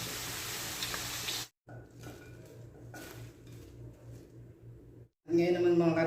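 Chopped taro (gabi) frying in oil for a chicken afritada, a steady sizzle that cuts out twice as the pan is handled, then returns louder and brighter with clattering cookware.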